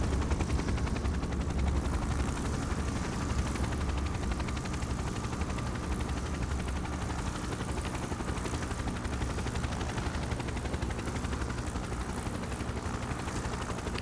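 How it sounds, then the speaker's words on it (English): A naval helicopter lifting off from a destroyer in the Arctic naval strategy game, a dense steady rotor and engine roar with fast chopping beats that holds at an even level throughout. "there we see that helicopter taking off from the destroyer"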